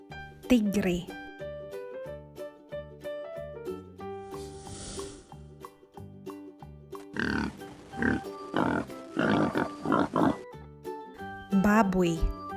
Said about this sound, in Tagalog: Baboy.